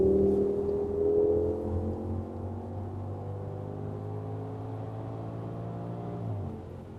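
A straight-piped 500 HP Audi S6 V10 accelerates at full throttle, its steady rising drone heard from inside the car, fairly subdued, with a brief dip near the end as the gear changes.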